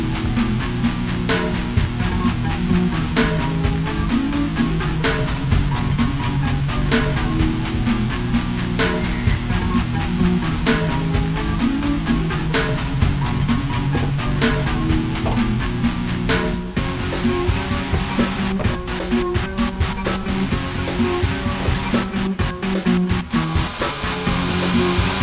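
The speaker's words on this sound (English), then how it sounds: "I'm going to drill a pilot hole from the bottom" A power drill runs loudly and continuously, boring a pilot hole for a hood pin, grinding steadily through the material for a long stretch with small shifts in pitch.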